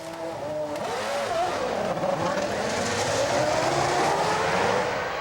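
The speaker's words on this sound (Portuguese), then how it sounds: "Agora é Button no pit stop." A Formula 1 car during a pit stop at the 2005 Turkish Grand Prix: a dense, steady roar of racing engines and pit-lane noise runs throughout, with rising and falling engine pitch early on and no speech.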